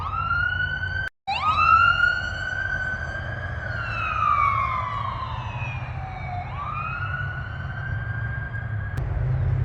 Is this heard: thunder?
no